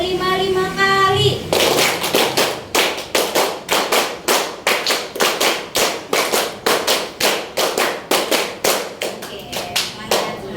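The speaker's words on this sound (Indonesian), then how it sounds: "tepuk 5 kali." A classroom of students claps in unison, fast steady rounds of sharp hand claps repeated many times, loud and close, starting after a brief stretch of voices and music.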